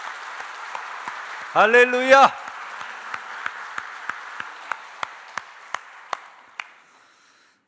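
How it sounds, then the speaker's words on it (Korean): A church congregation applauds together during a thanksgiving service, steady clapping lasting several seconds, with a single loud shout rising over it and scattered claps trailing off near the end. "크게 박수로 영광을 돌리겠습니다"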